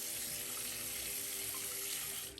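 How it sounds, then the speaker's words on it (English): A tap runs steadily into a sink while a wig is rinsed under it, a constant close splashing hiss with no break and no talking. "Turn the water off."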